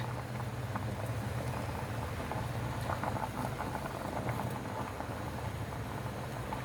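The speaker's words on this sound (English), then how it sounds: "About half a spoon of salt I have added, and let this boil." Tapioca boiling in a salted pot makes a dense, continuous bubbling and patter that stays even and close throughout, with no voices.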